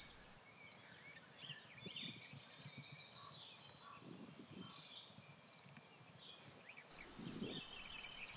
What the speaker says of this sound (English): In it, thousands of crickets and grasshoppers are singing.